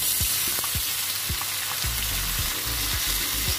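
Bird's eye chili, tomato and petai beans stir-fried in a hot pan give a steady, loud sizzle, punctuated by a quick series of scraping spatula strokes against the metal.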